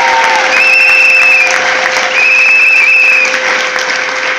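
A church congregation clapping and cheering for Jesus, loud sustained applause from a large crowd with bright whistles rising over the clapping, nearby and continuous.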